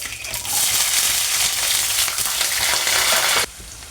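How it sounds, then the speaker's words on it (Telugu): Onion frying in oil with mustard seeds, chana dal, urad dal and cumin, a loud, dense, steady sizzle close by that cuts off abruptly near the end, leaving quieter crackle; no talk. "చూడండి, ఆనియన్ అనేది వేగిపోయింది."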